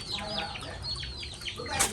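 A hen eats her evening feed on a rural Thai farm, clucking softly in quick repeated chirps and murmurs among other fowl, with faint rustling and a slight voice in the background.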